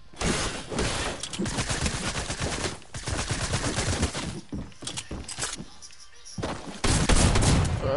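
Rapid bursts of gunfire in Fortnite crackle loudly and repeatedly, with volleys broken by short gaps and one quieter stretch before a final heavy burst.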